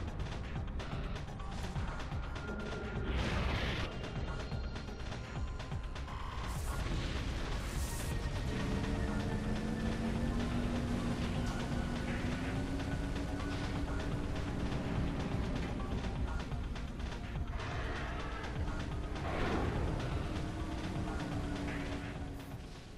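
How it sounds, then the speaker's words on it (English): Explosions in the Metroid Prime video game, set in outer space, roar as a dense, continuous rumble of booms and mechanical crashing, loud and sustained for over twenty seconds beneath sweeping tonal game sounds. "These explosions don't make sense considering we're in the vacuum of space"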